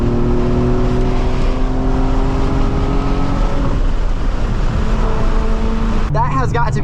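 Nissan 350Z accelerating hard on a freeway, a loud steady engine roar with rising and falling harmonic tones that drops in pitch as the car shifts, continuing throughout with a brief voice near the end.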